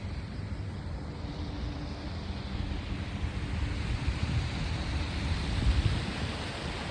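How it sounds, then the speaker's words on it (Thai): Cool wind blowing outdoors beside shrimp and fish ponds, a steady, loud broadband rush with low rumbling gusts that builds slightly toward the end, with no other sounds over it. "บรรยากาศดีดีลมเย็นเย็น"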